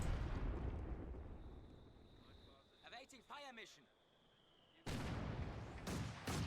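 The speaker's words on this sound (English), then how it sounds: "He's just shelling the building?" Artillery shells pounding a building in Company of Heroes 2, a 3v3 match on Lienne Forest: broad rumbling blasts at the start, a quieter stretch with a whistling descent and speech, then heavy loud impacts again near the end.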